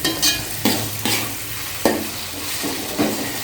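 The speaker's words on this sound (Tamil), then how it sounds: "இஞ்சி பூண்டு பேஸ்ட் போட்டால் நல்லா வதக்கிடுங்க வெங்காயத்தோட." Onions sauté with ginger-garlic paste in a pan for a coconut fish curry, giving a soft continuous sizzle broken by about seven sharp scraping stirs spaced roughly half a second apart.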